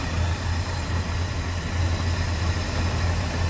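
A 1971 Chevrolet K10 4x4 pickup with a 350 V8 idles up close, a steady, smooth low rumble that holds even and unbroken throughout, with no talking.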